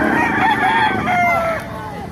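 A kanawayan fighting rooster at a Bocaue market crows loudly and close, one drawn-out cock-a-doodle-doo with clucking and faint voices around it.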